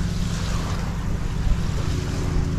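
Ocean waves rolling onto a beach at a Grand Bahama resort, a constant washing rush mixed with wind noise on the microphone, with no talking.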